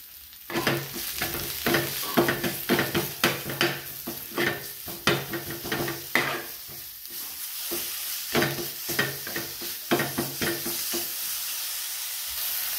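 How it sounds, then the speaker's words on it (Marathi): A spoon stirs a garlic paste mixture with salt and red chilli powder in a hot pan. Repeated scraping strokes sound close over a continuous sizzle, with no one talking. "हे छान मिक्स करून घ्यायचं।"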